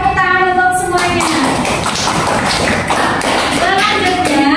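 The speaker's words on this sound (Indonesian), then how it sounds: "Tepuk tangan untuk semuanya." Children in a classroom clap together in a dense, lively burst of applause, with an adult voice speaking over it.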